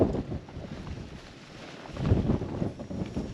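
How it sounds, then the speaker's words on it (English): Strong gusting wind of over 20 miles an hour buffets the microphone on an exposed hillside at Harbottle Hills, a continuous roar that swells and falls with no voices. "Over 20-mile-an-hour winds."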